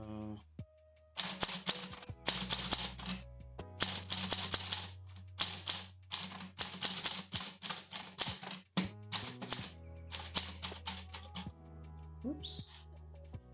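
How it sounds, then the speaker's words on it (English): Keys of a typewriter struck in quick irregular bursts, close and crisp, with short pauses between runs over a low hum; a voice speaks at times. "Now it takes some time getting used to writing with the typewriter."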